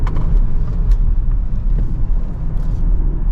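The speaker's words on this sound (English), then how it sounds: "should we test out the brakes? These are the big disc brakes, ready?" A Ford Explorer ST with big disc brakes braking hard, heard from inside the cabin as a steady low road and engine rumble that carries on for the full few seconds.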